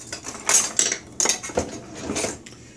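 Metal cutlery rattles and clatters as someone digs through a drawer or tray for a spoon, a close, bright run of jangling clinks with a few sharper knocks, no voice over it.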